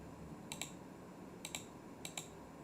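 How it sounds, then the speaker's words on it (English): Three short bursts of computer keyboard typing, each a quick pair of light clicks, spaced apart over a faint steady background hiss with no talk. "And you begin to type back."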